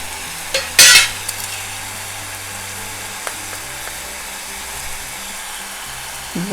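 Potatoes with ginger-garlic paste sauté in hot oil, giving a steady, close sizzling hiss throughout, broken early by one sharp metallic scrape and a few faint taps.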